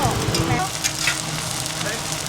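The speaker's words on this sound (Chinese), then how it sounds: "金黃酥脆的餅皮在熱油中煎煮" Hand-made scallion pancake dough sizzles steadily in hot oil at a street food stall, a continuous crackling hiss that stays close and fairly even throughout.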